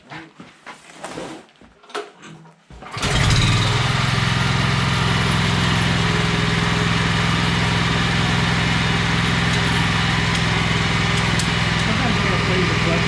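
A BCS walk-behind tractor engine starts after a short stretch of speech, then runs as a loud, steady, close mechanical roar for about ten seconds.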